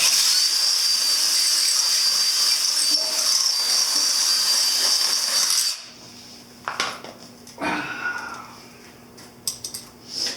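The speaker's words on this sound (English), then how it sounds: "Let's ream it out a little bit." A power tool reams out a hole during a speedometer install on a 1983 Honda CB1000 custom motorcycle, giving a steady, loud, high whine for about six seconds before it cuts off, followed by a few light clicks and handling noises.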